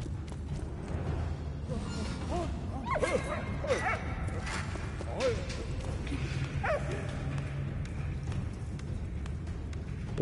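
Dog barks and yips in the World War video game Valiant Hearts, repeated short calls spread over a busy game soundscape with footsteps and clatter, moderately loud throughout.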